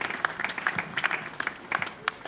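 A church congregation at a funeral service claps in scattered, uneven bursts, with a voice speaking over the applause.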